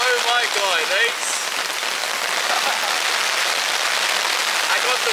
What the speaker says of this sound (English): Then it started raining and then it got even worse.